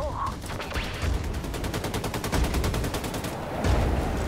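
Rapid automatic gunfire in Wolfenstein: The New Colossus, a steady, evenly spaced stream of loud shots with a few heavier low thumps mixed in.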